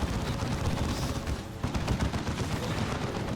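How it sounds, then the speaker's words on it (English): Lascannon shots fire in Dawn of War 2 amid a Tyranid and Imperial Guard battle, dense rapid booms and crackling gunfire packed together, loud and continuous. "Las Cannon getting shots."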